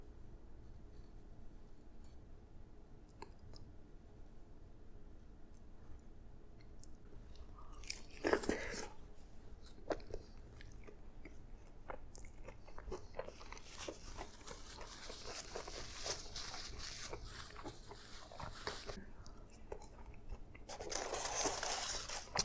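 Wingstop wings and fries are bitten and chewed close up, with repeated crunches and wet chewing sounds in an irregular rhythm over low room noise, a louder crunchy stretch near the end.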